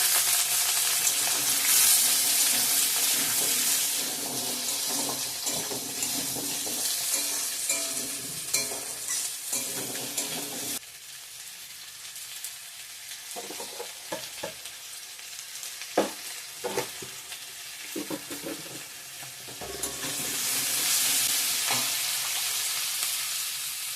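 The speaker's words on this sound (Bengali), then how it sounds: "এখন আলু পটলটা দিয়ে দিলাম ভেজে নেবো" Potato and pointed gourd fry in a pan, making a loud, steady, broad sizzle that dips briefly midway and swells again. Scattered stirring clicks and knocks come through the hiss.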